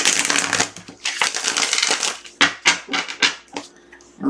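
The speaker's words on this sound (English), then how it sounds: "So let's shuffle really good." A deck of tarot cards is shuffled vigorously at close range, with loud, repeated riffling and slapping bursts in an uneven rhythm and brief pauses between them.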